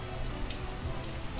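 Steady rain patters down in the village-building game Banished, a soft, even hiss of drops on surfaces that stays constant throughout with no voices over it.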